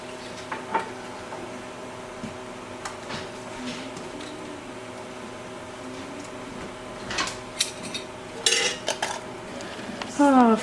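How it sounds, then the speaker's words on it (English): Glass canning jars with metal rings clink and knock as they are set down into a pot of boiling water for strawberry jelly, scattered sharp clatters over a low simmering hum, busiest toward the end. "And then I'm gonna plop them into my boiling water."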